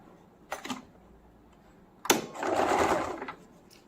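A sewing machine stitches a cotton baby frock, joining the front and back pieces: two short whirring bursts, then a longer, louder run of stitching close by, with no talk.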